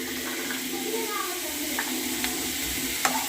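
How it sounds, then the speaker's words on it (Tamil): Onion and tomato sautéing lightly in a pan, a constant soft sizzle with occasional scraping stirs and faint clicks of a utensil, close and steady throughout. "லைட்டாக வதக்கி விட்டுக்கலாம்."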